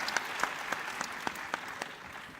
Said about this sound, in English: yes, give him a hand